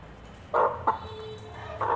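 Fancy chickens kept on a rooftop give a few short, close clucking calls, two bursts near the start and another at the end, over quiet background hum.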